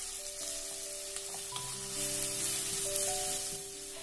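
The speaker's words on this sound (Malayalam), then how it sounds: "എന്നിട്ടിത് നല്ലപോലെ ഒന്ന് വഴറ്റി കൊടുക്കണം" Onions with salt sauté in a pan, a soft, steady sizzle under faint background music tones, with no talking.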